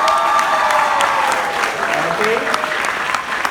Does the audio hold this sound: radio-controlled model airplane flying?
no